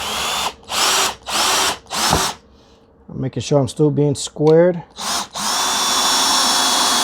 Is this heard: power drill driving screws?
yes